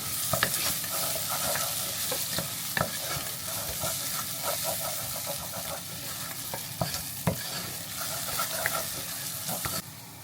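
Tomato paste stirred into frying onions for a Cape Malay curry: a steady sizzle runs throughout, broken by frequent scraping and knocking clicks of a spoon against the pan, close and fairly loud, with no talking.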